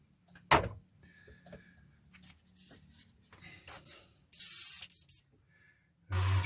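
Airbrush hissing out aluminium paint onto a 1/48 scale Kinetic F-104J Starfighter model, short close bursts of spray separated by quiet handling noises, with a longer burst near the end.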